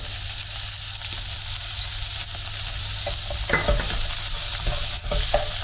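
Onions with salt fry loudly in a pan, a steady close sizzle with a few scraping stirs and utensil clinks near the end.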